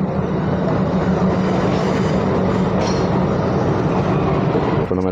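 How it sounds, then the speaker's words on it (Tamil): The Tiruchendur Express rolls into Egmore station with a loud, steady rumble of wheels and carriage noise throughout, heard from aboard the train without speech. "இப்போ நம்ம ட்ரெயின் எக்மோர் ஸ்டேஷனுக்குள்ளே போயிட்டு இருக்கு."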